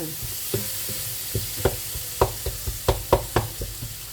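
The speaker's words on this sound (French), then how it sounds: "Toujours laisser cuire comme ça, écraser les tomates" Green beans and tomatoes cook in a pan while the tomatoes are crushed, giving a steady sizzle punctuated by a series of soft, close squelching presses and stirring knocks.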